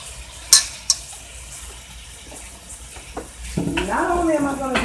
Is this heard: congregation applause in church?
no